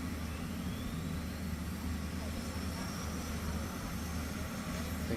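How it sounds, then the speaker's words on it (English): A turbine dragster's jet engine roars steadily at a drag strip. The broad rushing whine is continuous and distant-sounding, with commentary talking over it. "that turbine dragster is so immensely powerful"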